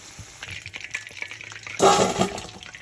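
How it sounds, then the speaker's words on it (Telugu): Street-style chicken 65 pieces frying in hot oil: quiet crackling at first, then a sudden louder burst of bubbling sizzle near the end, with no voices. "ఫస్ట్ టైం మళ్ళీ రెండోసారి ఇంకోసారి ఫ్రై చేసుకోవాలి."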